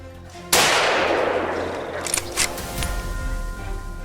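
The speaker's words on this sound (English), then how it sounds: "Gunshots rang out immediately, but these boars were fast." A single sharp gunshot from a wild boar hunt cracks out and its echo rolls away over a few seconds, followed by faint rustling.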